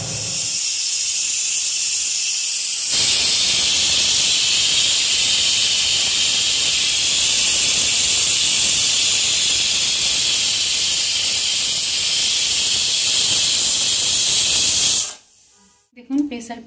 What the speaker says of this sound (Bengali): এবার মাংসটা সিদ্ধ হওয়া অবধি আমি সিটি দিতে থাকবো।